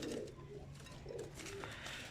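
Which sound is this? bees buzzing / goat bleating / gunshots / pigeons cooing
pigeons cooing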